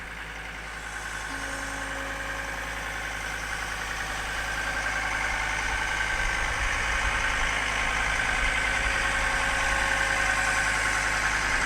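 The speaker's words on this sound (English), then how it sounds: "if you pull back all the way on your pedal to raise all the boom up" A skid loader's engine runs steadily while the boom is raised, a loud continuous mid-pitched idle with mechanical vibration that builds slightly as the hydraulics take load.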